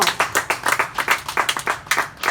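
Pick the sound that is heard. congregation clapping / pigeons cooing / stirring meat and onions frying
congregation clapping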